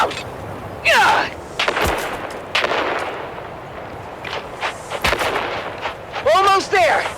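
Grenade explosions and gunfire in the Dune video game, a handful of sharp blasts and shots scattered over a busy battle bed, with some loud near bursts and a metallic whining sweep near the end.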